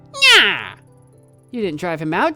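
A cat meows once in the video game Tokyo Dark, a single rising and falling cry, followed by a person talking.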